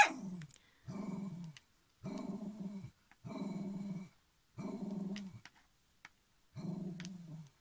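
A dog inside a camper van growls and barks at another dog outside in six separate bursts, fairly close, with short silent gaps between each outburst.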